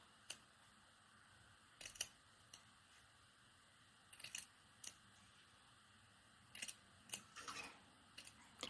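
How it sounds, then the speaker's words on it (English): Sharp, crisp snips of scissors cutting, scattered irregularly with short pauses between, close and fairly quiet against a faint background hiss. "I need to sharpen my scissors."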